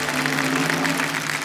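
Studio audience on an Indian TV quiz show set, KBC, applauding a contestant's win with steady, dense clapping that fills the whole moment, over a low music bed.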